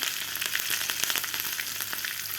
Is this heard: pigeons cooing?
no